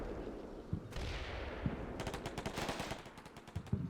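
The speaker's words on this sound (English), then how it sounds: "So I've got this LMG team to take up the suppression." Light machine gun team laying down suppressive fire in the war game Combat Mission: Black Sea, a Russian assault on Gargarina Avenue, with rapid bursts of automatic gunfire and distant crackling shots, no voices.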